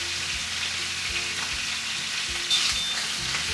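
Pot roast beef sears in a hot pan, its fat and meat giving a steady close sizzle and frying crackle throughout, with a brief brighter hiss partway through; no one speaks.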